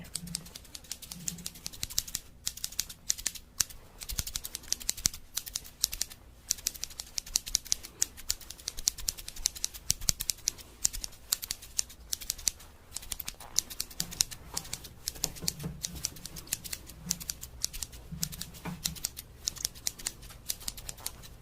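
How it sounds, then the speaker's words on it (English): Scissors snip again and again at close range, crisp metallic cuts in quick irregular bursts against a quiet background. "I will demonstrate how effective these absolutely unassuming scissors can be."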